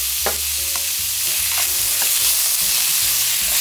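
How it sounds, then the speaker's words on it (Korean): Cucumber stir-frying in a hot pan, a continuous bright sizzle broken by irregular scraping clicks as the slices are tossed and stirred, close and alone with no talking. "너무 많이 볶지 말고 살짝만 볶으면 돼요"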